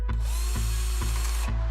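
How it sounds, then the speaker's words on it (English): A power drill fitted with a hinge bit pre-drills hinge holes in a cabinet door for an IKEA BESTÅ cabinet, running as a steady close whine with four short pulses or catches spread across the burst. "I'm going to pre-drill the holes."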